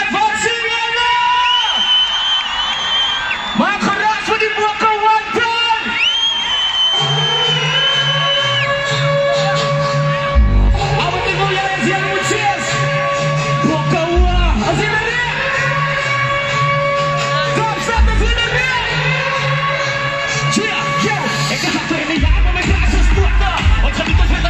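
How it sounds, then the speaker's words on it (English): Large stage-show audience cheering and applauding for the 2019 Rugby World Cup-winning South Africa Springboks captain, a loud sustained crowd roar with whoops and yells under a blaring tonal music bed throughout. "Give him a massive, massive round of applause."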